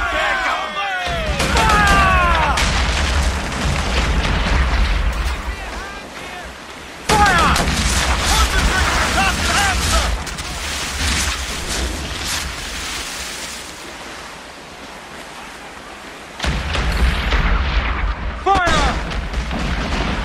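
Ship cannons fire in Assassin's Creed 4 Black Flag, heavy booming volleys over ocean surf and creaking sailing ship, with bursts of crew shouting in between and music-like tonal layers.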